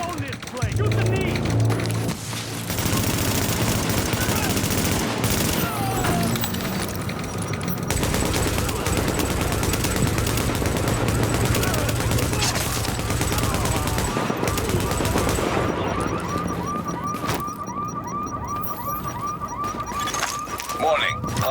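Rapid gunfire bursts and shots in the video game The Division, loud and continuous, with sirens and voices calling out over the combat.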